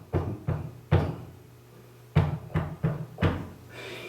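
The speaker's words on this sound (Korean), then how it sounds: "주인이 찾아와서 월세 달라고 문을 두드리는 겁니다" Firm knocks land on an apartment door, close and hollow, in two groups of three or four raps separated by a short pause.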